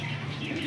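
Soft, low cooing from old Chinese-line flying pigeons, steady and close for under a second with a faint murmur of background noise.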